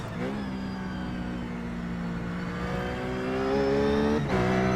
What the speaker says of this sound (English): downshifting to second into turn 6 there